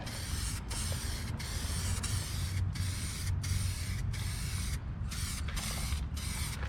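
A spray gun lays clear coat onto a 2006 Ford F350 with a loud, continuous hiss, broken by about ten short regular gaps where the trigger releases between passes.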